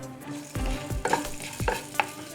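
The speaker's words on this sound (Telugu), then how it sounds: "ఈ పప్పులు కలర్ మారే వరకు వేయించుకోవాలి" Urad dal and coriander seeds toast in a little oil for an amla coconut chutney: a soft sizzle under several close stirring scrapes and dull knocks against the pan, irregularly spaced and without speech.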